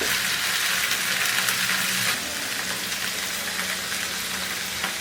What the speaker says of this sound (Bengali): আমি একটা ফ্রাই প্যানে একটু তেল গরম দিয়ে তার মধ্যে এই নুডলসগুলোকে দিয়ে দেবো।